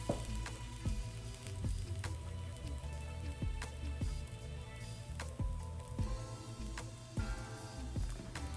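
Protein pancake frying in a pan, a steady close sizzle with a faint hum underneath and soft periodic clicks and pops, with no talking.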